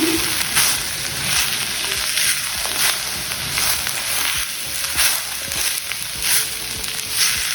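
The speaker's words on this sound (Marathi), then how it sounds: "नुसता नावाला तेलामध्ये थोडंसं टॉस करून घ्यायचं" Chopped vegetables tossed briefly in hot oil over high flame, a steady loud sizzle with repeated soft scraping and stirring strokes and rhythmic bursts as the pan contents are flipped, no voices.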